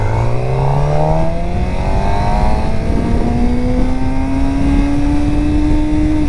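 A 2023 Suzuki GSX-R600 sport bike revs while being ridden, the engine note climbing steadily and loud throughout with continuous wind roar, no voices.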